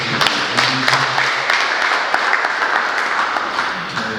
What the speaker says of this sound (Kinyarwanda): mufashe rwose kureza amashyi